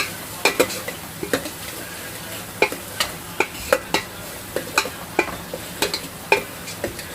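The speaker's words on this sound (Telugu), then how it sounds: "కొంచెం పసుపు వేసేసి ఒకసారి అయితే ఇక బాగా కలిపేసుకుంటున్నాను" Chicken with turmeric is stirred in a frying pan while gongura chicken cooks village style; a spoon scrapes and clicks in a steady rhythm of sharp taps over a soft, constant sizzle.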